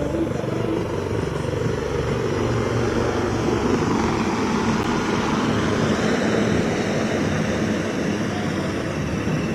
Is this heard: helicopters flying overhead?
yes